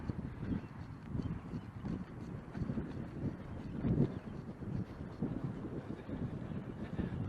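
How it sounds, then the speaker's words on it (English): Gusty wind buffets the microphone with low, rumbling bursts that rise and fall continuously. "It's so windy."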